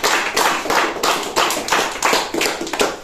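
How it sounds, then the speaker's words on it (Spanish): Guests clap together at a birthday party, a steady run of roughly a dozen fairly loud, rhythmic claps spread evenly through the moment without any talk. "¡Un aplauso!"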